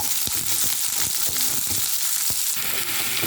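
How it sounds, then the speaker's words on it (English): Steady crackling sizzle of onions frying in a pan, with a few sharp clicks of a utensil scattered through. "I continue frying until they become a bit, they get a golden brown color."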